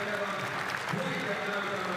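Basketball crowd applauding in an arena in Espoo at a Finland versus Belgium international game, a steady wash of clapping and cheering that holds at an even level throughout.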